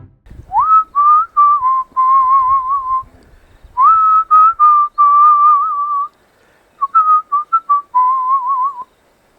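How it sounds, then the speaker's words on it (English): A person whistles at warthogs on safari: clear, close, melodic phrases in several bursts with short pauses between them, and no other sound around. "they like it when I whistled"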